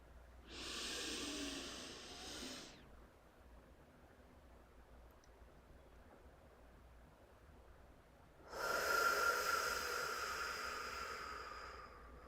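Slow, deep breaths taken during a guided breathing exercise: two long, airy breaths close to the microphone, separated by several seconds of near silence.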